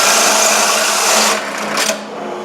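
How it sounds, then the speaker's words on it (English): A power saw rips through 3/8-inch plywood at high speed, a loud dense whine with grinding texture that holds steady, then drops off as the cut finishes. "See how fast that is with a good saw?"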